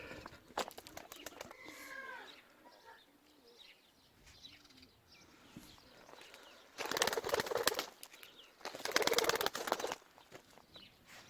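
Soft coos and a few chirps from a grey speckled crested male pigeon and others close by, with quiet low rustling between two louder bursts of broadband noise.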